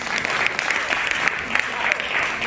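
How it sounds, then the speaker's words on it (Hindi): An audience at a Teachers' Day celebration claps steadily and fairly loudly, a dense, even patter of applause that runs through the whole stretch. "आप एक बार तालियां बजा दें,"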